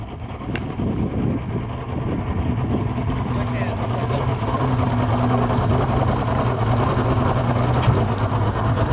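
A rescue boat engine idles at slow speed on a disabled-vessel training run, giving a steady low, even drone throughout, with wind buffeting and faint muffled voices mixed in.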